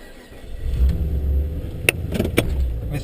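A supercharged VE Commodore ute with a built 6-litre engine and 4L80E automatic transmission pulls away. Close, loud engine hum rises as it drives, with a few sharp clunks and knocks near the end.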